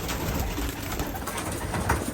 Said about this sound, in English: These are my old birds.